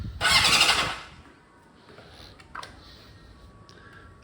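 A 1980 Honda CB750F DOHC motorcycle starts close by: a loud, short burst of starter whine and catch that lasts under a second, then fades to faint idle and a few small clicks.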